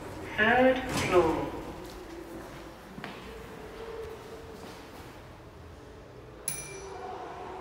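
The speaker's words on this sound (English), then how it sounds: "Doors opening. Third floor." A 1993 VAC-controlled express lift in Weston-super-Mare with a synthesized voice announcement, followed by the soft rumble of the doors sliding open, a faint clunk and a brief high chime.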